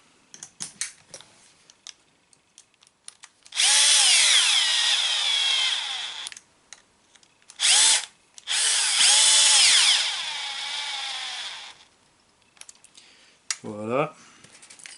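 Electric screwdriver driving screws while assembling the rear end of a Team Associated RC8 B3 1.6 RC car, with two long whirring runs separated by a brief burst, plus a short rising whine near the end.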